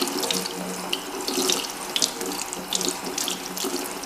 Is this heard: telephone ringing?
no